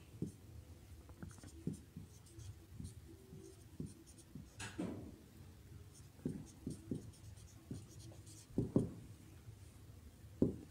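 Chalk or pen writing on a board or paper during a Bengali exam-prep lesson, a series of soft scratchy strokes and taps in irregular bursts, fairly close, with no talk.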